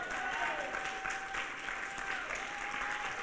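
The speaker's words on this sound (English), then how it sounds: "Jerusalem, give our First Lady a round of applause" A church congregation applauds its First Lady, a steady dense wash of clapping with a faint sustained tone running beneath it, held at an even level throughout.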